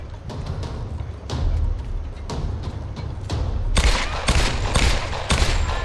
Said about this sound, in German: Schrotflinte